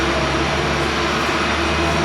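A Jetstar A320 airliner taking off for Bali gives a steady, broad jet roar heard from an indoor viewing area at Perth airport, continuous and fairly loud across the short stretch.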